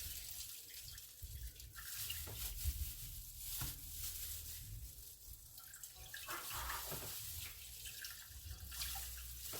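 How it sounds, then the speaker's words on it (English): Grapefruit being squeezed by hand through a strainer, juice splashing and trickling steadily into a bowl, wet and continuous at close range with no talking. "Make sure you get all the juice out. Squeeze."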